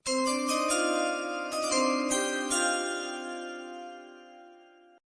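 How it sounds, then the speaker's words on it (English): Bright metallic chimes ring out for an NFL Draft pick announcement, several quick struck tones layering in the first two and a half seconds, then a long sustained ring slowly decaying to silence. "All right, give me the chimes."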